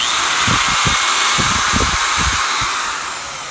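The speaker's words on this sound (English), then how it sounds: "Drilling the holes." A power drill whirring steadily as holes are drilled in boards for a backyard shed, a loud sustained high whine with short low thumps and bursts beneath it, easing off slightly at the end.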